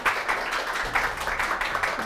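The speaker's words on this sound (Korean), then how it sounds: "김효영 대표님을 큰 박수로 모셔볼게요" A studio audience at a lecture show claps to welcome a guest speaker, a short burst of moderate, fairly even applause at some distance.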